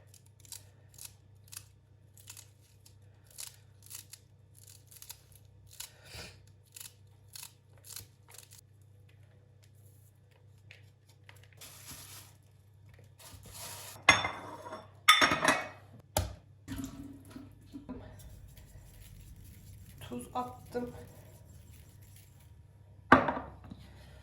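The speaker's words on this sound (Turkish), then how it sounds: "Ben hızlıca şu maydanozları da doğrayayım küçük küçük." A knife taps rhythmically on a board in quick, light cuts through parsley, followed by a few louder knocks and clatters, with a low steady hum underneath.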